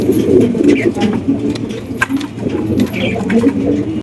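Pigeons cooing in a busy pigeon market where birds are sold, including blue Lahori and red Sirazi breeds; a dense, continuous low murmur of many birds, with crowd voices and people talking underneath throughout.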